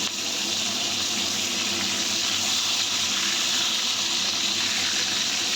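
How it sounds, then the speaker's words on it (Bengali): Prawns fry in hot oil in a wok, giving a loud, steady, close-up hiss of sizzling that holds even and unbroken throughout. "15 মিনিট পরে কড়াইতে তেল গরম হয়ে গেলে তো চিংড়ি মাছগুলো আমি ভেজে নিচ্ছি"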